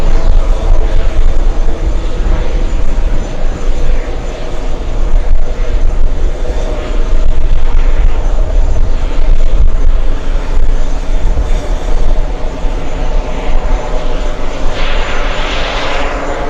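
A Lufthansa airliner comes in to land at JFK airport, its engines a loud, steady roar that holds for the whole stretch with a broad rushing hiss building toward the end.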